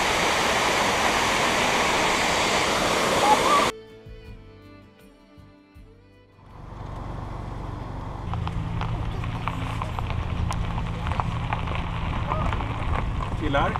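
Loud, steady broadband roar of a waterfall dominates the opening seconds, then cuts abruptly to quieter, sparser ambience with low rumble and scattered sounds.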